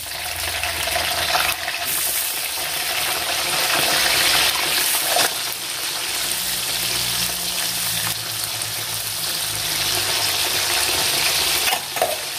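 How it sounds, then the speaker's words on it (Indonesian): Eggplant fries in a pan of hot oil with a steady, dense sizzle that runs unbroken and close, with occasional light stirring clinks and no voices. "Lanjut goreng terongnya."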